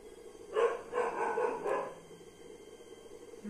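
A dog barks in three quick, moderately loud bursts, slightly distant, then a quiet lull follows with faint background hum.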